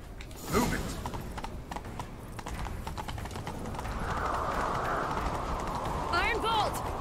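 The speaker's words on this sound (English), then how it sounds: "Grab a horse, we'll chase him down." A horse gallops with rhythmic clip-clop hoofbeats in The Witcher 3 during a chase, under characters talking and shouting.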